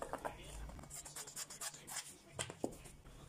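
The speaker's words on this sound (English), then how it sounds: "I'm cutting out 2 pieces of this type." Scissors cut through satin fabric folded for an autogele headwrap, giving a series of soft, close snips with crisp fabric rustling in an uneven rhythm.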